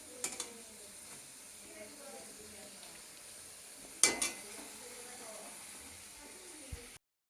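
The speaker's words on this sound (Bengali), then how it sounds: "আপাতত ভাজাগুলো আমি করে কমপ্লিট করি" Food frying in a pan in a home kitchen, a faint steady sizzle with a few sharp utensil clinks and a brief louder clatter midway.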